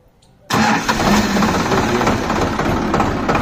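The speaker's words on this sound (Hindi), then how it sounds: "यहाँ जो ट्रैक्टर की क्लिच है उसकी चेकिंग की जा रही है बहुत अच्छी तरीका से।" A Sonalika DI-50 tractor engine bursts to life abruptly after near silence, then runs with a loud, steady diesel clatter and rumble close by during a clutch check.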